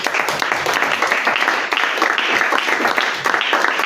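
Church audience applauding during a French-language Bible teaching on the local church, with dense, sustained clapping that fills the hall at steady loudness throughout.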